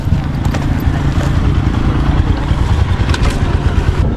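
A motorcycle engine rumbles steadily with a low throbbing hum during a ride near Kuakata, Bangladesh, close by and continuous, with road and wind noise over it and no talking.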